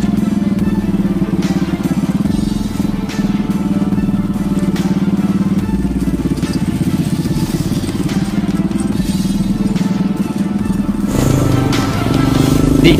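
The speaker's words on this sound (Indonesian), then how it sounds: "Roda 2ku terus berjalan" A motorcycle grinds steadily over a rough rocky village road, its engine drone loud and constant, with rattling clatter and occasional thumps from the uneven ground throughout and no voices.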